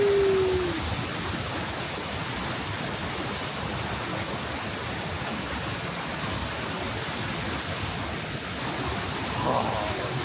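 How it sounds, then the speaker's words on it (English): Nachi no Taki, a tall waterfall at a shrine in Japan, gives a constant, dense roar of falling water that stays steady and full throughout. "Absolutely amazing waterfall."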